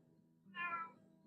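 A single clear cat meow rises and falls over about half a second, close and moderately loud, set against a quiet low hum with no talking.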